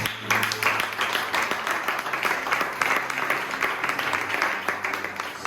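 A congregation at a Sunday church service claps steadily and densely for several seconds, loud, even applause filling the room with no break.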